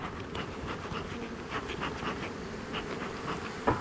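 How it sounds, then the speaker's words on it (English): Honeybees buzz densely as hive frames are shaken during a move, a continuous close swarm drone with fluttering wing bursts and no talk. "We'll give these bees a shake"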